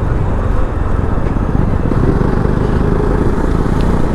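A motorcycle riding on the steep mountain road over Sach Pass makes a loud, steady engine drone with rumbling low-end throughout, heard close as if from the bike itself.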